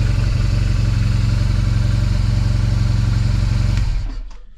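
Motorcycle engine idling close by with a steady, loud thumping rumble and light clatter, then switched off so the sound quickly dies away to silence.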